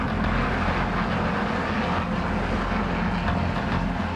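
Continuous loud engine roar and rotor rumble of a helicopter in flight, steady and close, with no voices.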